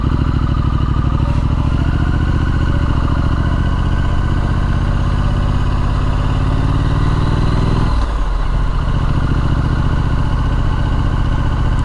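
A Triumph Street Scrambler Sandstorm motorcycle ridden along gravelly country lanes in Kent's Elham Valley, its engine close and loud in a steady throb, pitch sliding lower before a brief dip near the end, then settling back.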